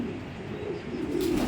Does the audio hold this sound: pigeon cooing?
yes